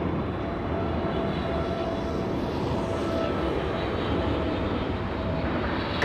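A Singapore Airlines airliner arriving on the north side of LAX, heard as a steady, broad engine roar that holds loud and even throughout without any talk.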